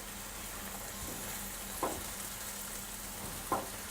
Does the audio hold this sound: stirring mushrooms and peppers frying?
yes